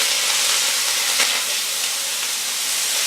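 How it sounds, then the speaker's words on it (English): Food sizzling and frying in a hot pan while cooking taco filling, a loud, steady broadband hiss held throughout with no talking. "listen for the sizzle"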